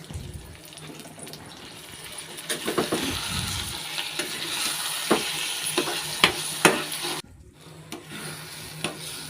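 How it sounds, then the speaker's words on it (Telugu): Tamarind leaf chutney frying in a pan, with a continuous sizzle under repeated stirring and scraping knocks that stay moderately close and steady throughout, and no speech. "ఈ పచ్చడి అందులో వేసేసుకుని ఒక ఐదు నిమిషాలు అలా ఫ్రై చేసుకుంటే"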